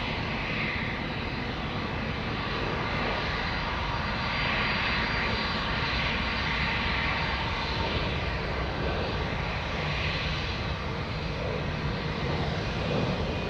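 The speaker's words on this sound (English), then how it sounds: "And the A340 is coming" An Airbus A340 airliner approaches at Amsterdam Schiphol Airport, its engines giving a continuous whooshing roar that swells gently, heard from a distance without talk.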